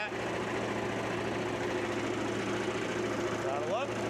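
A sawmill engine idles with a steady low rumble and even mechanical drone throughout, close and unbroken, with a faint rising whine near the end.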